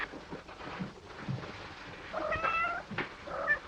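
A cat meows twice, a drawn-out mewing cry and then a shorter one, close by over faint wind-like background noise.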